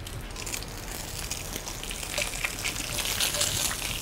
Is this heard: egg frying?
yes